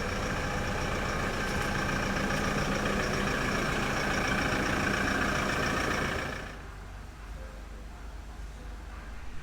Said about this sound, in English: I'm going to pull the truck out inside the driveway where we have some natural light out here.